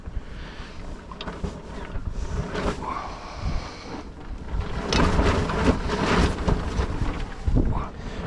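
A rain awning on a boat at sea flaps in the wind, giving irregular bursts of snapping and fluttering over a steady roar of wind and rain, close and gusty throughout.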